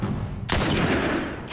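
A gunshot blasts in The Last of Us, one sudden loud report with a lingering roar after it and another sharp hit at the end.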